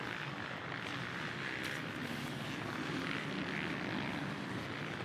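Off-road racing motorcycles launch from the start at a Preston, Idaho event, their engines blending into a dense, steady roar that carries from a distance with no break.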